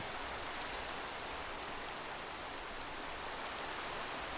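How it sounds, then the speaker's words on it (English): Steady rain falls in the Minecraft video game, a constant dense hiss of drops that stays even and uninterrupted throughout, with no talking. "I'm having a hard time concentrating on my thoughts with all of this rain going on"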